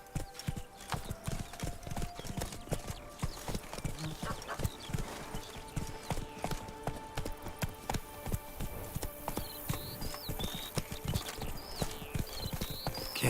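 Horse hooves clip-clop in a steady, rapid rhythm throughout, a ridden horse in the video game The Witcher 3: Blood and Wine, with faint background ambience and no talking.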